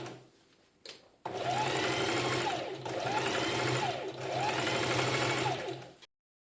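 A sewing machine stitches a sweetheart bustier top, running in three steady, near bursts of continuous whirring with brief pauses between them, after a short quiet start.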